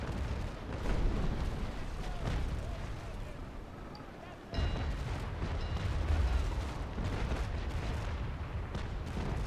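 Repeated booming cannon fire from an enemy sailing warship in the naval combat game Naval Action, heavy dull blasts rolling one after another in a dense, continuous barrage with a brief lull midway.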